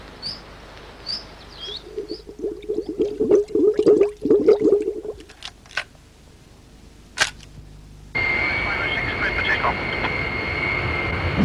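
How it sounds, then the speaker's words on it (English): An aircraft engine at takeoff power gives a loud, steady roar with a sustained whine that begins abruptly partway through and holds to the end, preceded by scattered voices, clicks and brief chirps. "Stand by for takeoff. Power stabilized."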